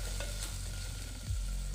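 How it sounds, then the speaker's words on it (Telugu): Prawns with a small amount of turmeric are stirred in a pot, giving a steady soft scraping and sizzle over a constant background hiss, with a brief louder scrape near the end. "చాలా కొంచెం పసుపు, వేసుకొని బాగా కలుపుకుందాం."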